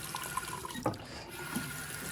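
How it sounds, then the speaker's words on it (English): Water running steadily from a sink tap, a continuous rushing hiss with a few small splashes. It fills a room where paint is being washed off, with no talking over it. "we're going to turn on the water"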